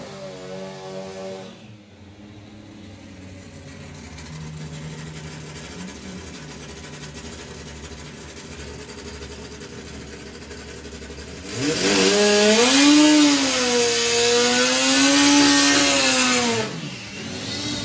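Supercharged methanol-fuelled four-cylinder funny bike drag racing motorcycles at the STP Summer Nationals: a steady mechanical engine drone, then a loud rising and falling howl of revving engines for about five seconds near the end.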